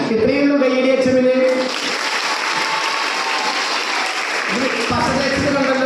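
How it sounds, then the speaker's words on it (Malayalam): Applause for a school headmistress at a gathering, dense and steady clapping from a crowd lasting several seconds, with brief voices audible at the start and end. "ഇത്രയും കൈയടി HM-ന്."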